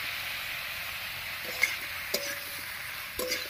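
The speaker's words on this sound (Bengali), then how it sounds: "হলুদ লবণ দিয়ে খুব ভালো করে মিশিয়ে নিলাম।" Ash gourd with salt and turmeric is stirred in a pan, giving a soft steady sizzle with a few light clicks of the spoon against the pan.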